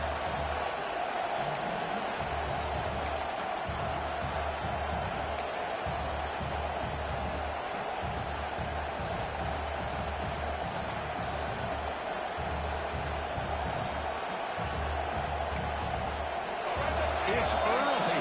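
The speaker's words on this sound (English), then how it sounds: "It's early, but this crowd is fired up. Listen to this noise here." Loud, steady stadium crowd roar during an early-season football video game, a continuous wall of cheering noise with a low rumbling undertone that swells slightly near the end, with no talk over it.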